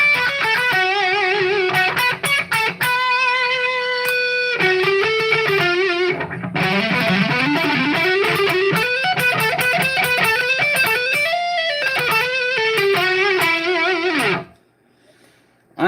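An electric guitar runs through a Kemper amp profile into a Mesa oversized cabinet, playing a loud distorted, effects-laden passage of sustained notes and bends for about fourteen seconds before cutting abruptly to near silence.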